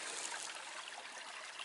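A small river in a little wood flows and trickles, producing a steady broadband rush of water that lasts the whole short moment without any speech.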